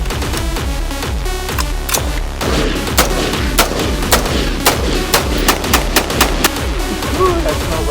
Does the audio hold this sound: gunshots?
yes